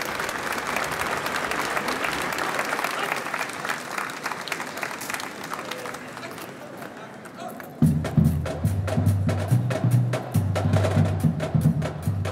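Audience applause at a drum corps tattoo at Schloss Marienburg: sustained dense clapping from a large crowd fills the first half, then low drum and brass tones enter under the continuing applause.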